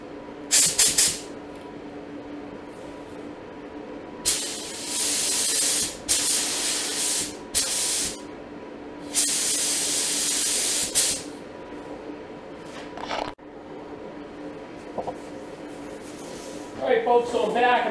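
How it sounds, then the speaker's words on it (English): Spray gun applying House of Kolor silver base paint to motorcycle parts: several long steady hissing bursts of a few seconds each, close and loud, separated by pauses with low background hum. "So I got my paint in my gun. I got my gun connected to my hose."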